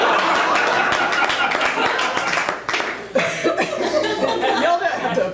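Comedy-club audience at a poetry reading claps and chuckles through the whole stretch, a dense crowd of hand claps mixed with scattered laughter and murmuring, fairly loud and close, with a brief dip midway before the clapping picks back up.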